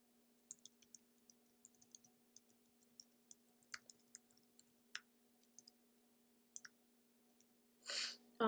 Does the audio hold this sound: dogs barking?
no